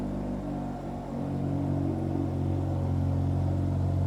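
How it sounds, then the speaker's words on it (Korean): A 2025 Hyundai Avante N, remote-started from outside the car, runs on a steady, deep engine and exhaust rumble close by, settling into a loud, even idle with no talking. "차량 소리를 듣고 계십니다. 좀 시끄러울 수가 있습니다."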